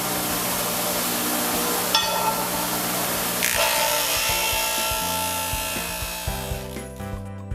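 A power tool rounds the corners of a metal tucking fork, giving a continuous high mechanical whine that shifts in pitch and winds down, with faint clicks near the end.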